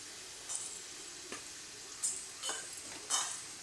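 Mixed vegetables fry in a pan with ground ginger and green chili paste, a steady soft sizzle broken by a few sharper clinks and stirring scrapes, close and with no talk.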